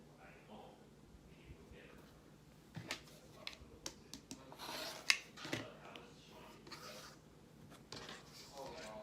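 Scissors or a cutter slicing a straight line through quilt fabric, with scattered soft snips, rubs and fabric rustles at close range, heaviest in the middle of the stretch.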